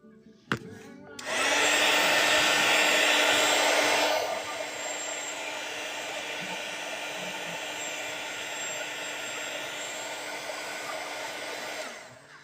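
Hair dryer blowing on a watercolor painting, switching on with a click and a loud steady whoosh and whine, dropping to a lower setting after a few seconds and running on evenly until it cuts off.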